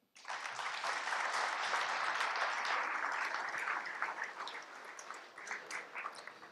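Sustained audience applause at a formal ceremony in Nantes, dense steady clapping from a large crowd that stays full for several seconds and then thins slightly toward the end.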